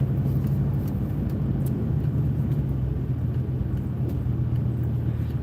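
A truck rolling along a snowy road while pulling off to park, giving a steady, close, continuous low engine rumble with road noise and no talking.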